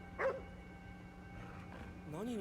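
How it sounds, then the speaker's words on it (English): A dog barks in the Ghostwire Tokyo video game, a short yip near the start and then a whining, pitch-bending canine cry toward the end, over a steady game hum. "A dog?"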